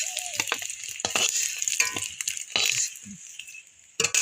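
An egg frying in oil in a pan for Bengali egg curry, with bright crackling sizzle broken by sharp clinks and scrapes of a utensil, close and fairly loud, with no talking.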